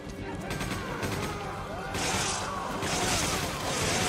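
Machine gun fire in the Resident Evil 5 video game, a steady rapid rattle of shots growing louder midway, with a person talking over it.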